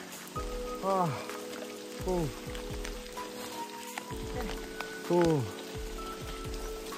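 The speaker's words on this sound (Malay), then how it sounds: "Cuaca hujan." Rain falls steadily on a mountain shelter on Kinabalu at about 2455 metres, a constant patter with drips, while bird-like chirps and voices come and go.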